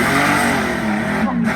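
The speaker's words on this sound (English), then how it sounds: "in his phenomenally quick green and yellow Porsche 911" A green and yellow rear-engined Porsche 911 hillclimb car with big rear tyres at Shelsley Walsh roars hard off the start line, its engine loud and close throughout.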